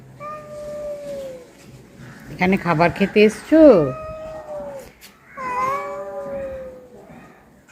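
A cat meows several times, drawn-out calls at the start and end with a burst of rapid, yowling cries in the middle, close and loud, with people talking over and between the meows.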